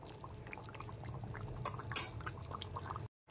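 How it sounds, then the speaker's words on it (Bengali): Ghee is poured over a finished chana paneer masala, giving a soft, steady liquid trickle with small drips and spatters at close range, a brief louder splash near the end, then a sudden cutoff. "এবার ওপর দিয়ে একটু 1 টেবিল চামচ ঘি দিয়ে দিলাম।"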